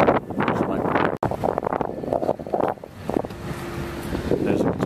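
Gusts of wind batter the microphone in loud, uneven rumbling bursts, briefly cutting out, with faint sounds in the background.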